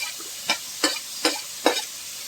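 Onion, ginger, garlic and green chilli being sautéed in a pan, four evenly spaced scraping stirs over a steady, close sizzling hiss, with no talking.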